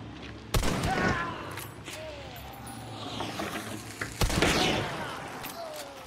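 Gunfire from a Mako 1895 lever-action rifle in Hunt: Showdown, with a few sharp, loud reports spaced apart over ambient game noise.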